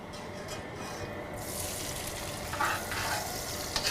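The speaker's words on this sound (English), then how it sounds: "We're gonna introduce our veggies because we want to get these nice and brown." Vegetables fry and brown in a hot pan for duck jambalaya, a steady crackling sizzle that flares brighter as they are stirred, with a few sharper pops and clinks near the end, close and moderately loud with no talking.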